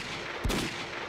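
A single sharp gunshot in the Project Zomboid video game, fired while hunting zombies, cracking once near the middle over a steady low background.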